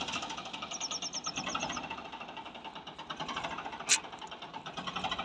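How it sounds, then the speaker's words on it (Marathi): A diesel tractor engine chugs steadily with a rhythmic pulsing throb, with a sharp brief click partway through. "त्यांचे ट्रॅक्टर ओलं मारायला चालू केले त्यांनी आता"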